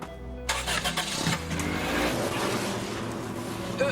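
A car engine cranks and catches, then settles into a steady running rumble, close and moderately loud.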